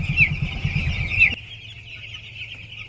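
Young chickens cluck and peep close by in a cold coop at dusk, several short rhythmic clucks over a steady high chirping that carries on after the clucking stops.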